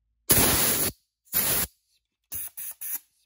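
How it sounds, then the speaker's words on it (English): Compressed air hisses through the intake valve of an Alkin W31 Mariner compressor's third stage in bursts: one long spray, a shorter one, then three quick puffs, loud and close. "spraying some air."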